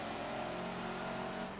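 A race car engine in Forza Motorsport 7 on the Mugello circuit holds a steady drone at constant revs, faint and even throughout.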